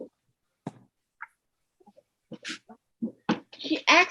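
A dog shuffles about and gives several short whimpers and breathy yelps, scattered irregularly and growing denser toward the end, with faint knocks that may be its tail hitting things.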